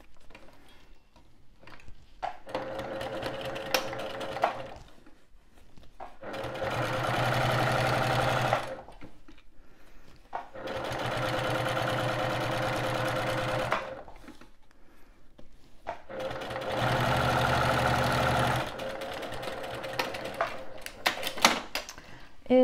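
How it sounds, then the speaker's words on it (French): A sewing machine topstitches a fabric appliqué on a pouch in three rapid stitching bursts, each lasting several seconds and separated by quiet pauses with faint handling noises. "je vais faire une petite surpiqûre"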